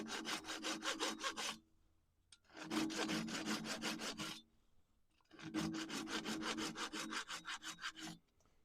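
A hand saw cuts through wood in three bursts of fast, even back-and-forth strokes, close and crisp, with short silent pauses between bursts.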